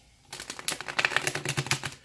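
Cards are shuffled in a quick riffle, a rapid run of crisp clicks and flutters, close by and moderately loud, with no voices.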